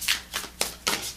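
Love oracle cards shuffled by hand, four quick riffling swishes in an even rhythm, close and crisp.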